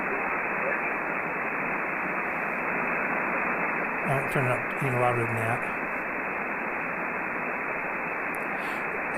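Steady hiss of amateur radio receiver static fills the whole stretch while tuning for signals on the 40 meter band, loud and unbroken, with a person briefly talking over it midway.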